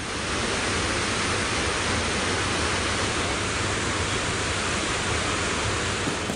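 Water of the Kaveri river flows in a steady, loud, unbroken rush with no other sounds.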